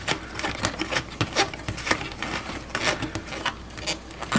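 Plastic parts of a Gemmy Halloween gobo projector being snapped and screwed together make a close, busy run of small clicks, ticks and rattles with no pauses.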